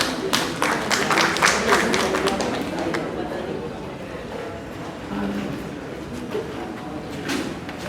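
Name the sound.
audience applause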